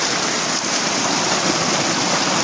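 Floodwater rushing along roads during a river flood amid landslides in Himachal, a loud, steady, broadband roar of fast-moving water that fills the whole clip with no talk.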